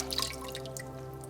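Water drips from an aquarium siphon hose during tank maintenance, a quick run of small, close droplet plinks over a steady low hum.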